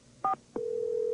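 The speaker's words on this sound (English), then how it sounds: "You dial 777-FILM and you can find out movie listings." Touch-tone telephone keypad dialing for the Moviefone line: a short dual-tone key beep, a brief pause, then a second tone that holds steadily, clear and close, with no voices.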